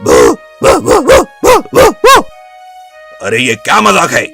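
A voice imitates a dog, giving six quick, loud barking yelps in a row, then pauses before speaking a short line.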